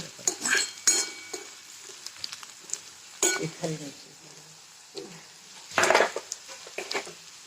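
Curry leaves and coriander with stems going into a hot pan, frying with a soft sizzle under several sharp stirring scrapes and utensil clinks against the pan.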